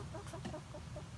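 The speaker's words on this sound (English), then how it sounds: "My Americanas, almost without fail, are very docile and friendly birds" Ameraucana hens clucking softly in a backyard flock, a few short low clucks and murmurs over a steady background hum, fairly faint.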